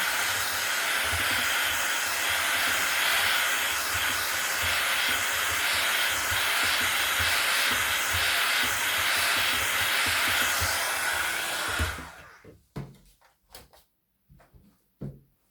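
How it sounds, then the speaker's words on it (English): A heat gun blows hot air over a gelli printing plate in a steady, loud whooshing hiss for about twelve seconds, then cuts off, leaving brief faint handling clicks. "this is a heat gun, so I'm having to be a little bit careful not to go too close, or it will melt the jelly"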